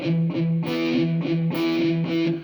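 Palm-muted distorted electric guitar power chords played in short rhythmic bursts, tight and choppy, repeating a quick strumming pattern.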